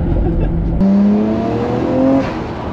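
A 24-year-old Nissan Skyline R34 GT-R accelerates hard from inside the cabin, its engine note climbing steadily. The exhaust pops are not clearly distinct, and people talk over the engine.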